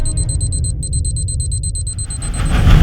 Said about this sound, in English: The time bomb, concealed within a suitcase, was ticking down its final seconds